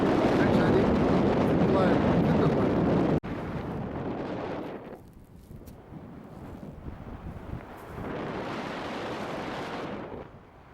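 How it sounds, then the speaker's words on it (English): Strong wind buffets a Scottish hilltop near a cairn on the walk from Meall Reamhar to Black Craig, roaring loud gusts rushing against the microphone, easing in the middle before picking up again toward the end. "If you can hear me above that wind"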